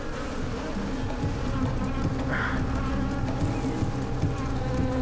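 Honeybees buzz close and steadily around someone outdoors, a dense continuous drone with one brief nearer insect pass.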